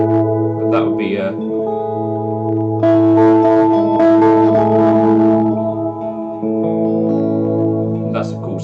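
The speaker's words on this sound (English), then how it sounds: "That is a major 9." A major 9 chord rings out on guitar through effects with echo and chorus, several sustained strums layered with shimmering repeats, fairly loud and close with a brief break before the chord sounds again.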